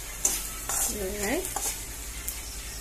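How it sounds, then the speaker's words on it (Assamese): Food being stirred in a pan over very low heat, a soft continuous scraping with a faint sizzle underneath and a few louder clinks of the utensil, close by and steady, with no voices. "একদম কম হিটত এনেদৰে লৰাই থাকিম"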